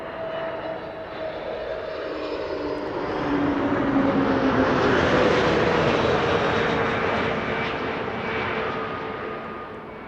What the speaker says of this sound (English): that's a Delta A330, flight 162, arriving from Minneapolis